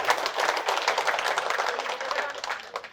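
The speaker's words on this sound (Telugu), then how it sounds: "గట్టిగా చప్పట్లు కొడదాం." An audience at a spiritual leader's gathering claps together in a dense, steady burst of rapid hand claps lasting several seconds, with voices mixed in underneath.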